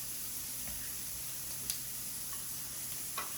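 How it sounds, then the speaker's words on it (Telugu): Half-boiled prawns frying with finely chopped green chilli and garlic in a little oil, a steady low sizzle with faint stirring clicks and a couple of brief utensil taps, close and alone without talk. "వేసుకొని ఒక 2 మినిట్స్ ఫ్రై చేద్దాం."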